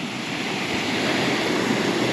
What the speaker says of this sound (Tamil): இந்த தண்ணி ஓட்டம் பாருங்கள்